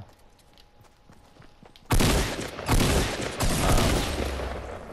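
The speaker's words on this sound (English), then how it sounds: "They got that first shot off" Loud gunfire from Fortnite Battle Royale that breaks out suddenly after a quiet stretch of faint game ambience, then keeps going as dense, rapid volleys of shots close by.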